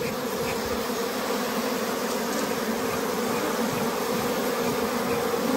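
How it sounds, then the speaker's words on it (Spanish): Honey bees swarm around a hive in a cave, a dense, continuous buzzing hum that fills the air close by, with no voices. "Ahora nosotros estamos siendo rodeados de abejas."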